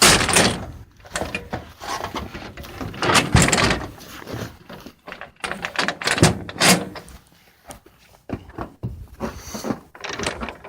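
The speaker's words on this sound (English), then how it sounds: "Let's close this double door." Double engine-compartment door on a Hitachi EX1200-6 excavator powered by a Cummins engine, swung and latched shut with a series of loud metallic clunks, rattles and bangs, close to the microphone.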